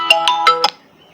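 A phone's call ringtone chimes in four quick, evenly spaced bursts, close and fairly loud, then cuts off into near silence.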